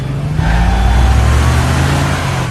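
A car engine in The Wolf Among Us video game drones loudly and steadily throughout, revving up as the car accelerates, with a constant low rumble and no talk.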